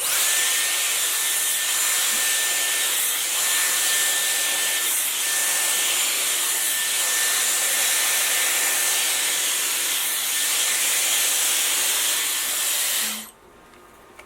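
A Dyson Airwrap hair styler blows steadily while curling hair, a loud continuous airy whoosh with a faint whine that runs for many seconds before cutting off abruptly near the end.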